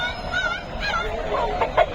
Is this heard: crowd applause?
no